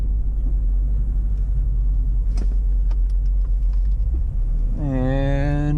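A C6 Corvette driving with auto-blip rev-matching on: a loud, steady low engine drone, then a sharp rising rev blip near the end.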